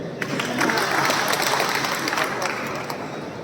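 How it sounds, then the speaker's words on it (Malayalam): Audience applause at a Malayalam film pooja ceremony, dense sustained clapping from a crowd filling the whole moment at steady loudness. "ഒരു കയ്യടി"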